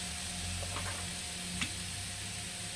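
Apples for an apple and raspberry crumble cook in a pan with a soft, steady sizzle and a faint stir or two. The sound is quiet and close, with no talking.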